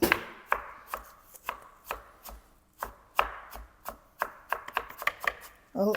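Apples being chopped on a cutting board for apple coconut cookies: a brisk run of sharp knife thuds, close and clear, with no voices.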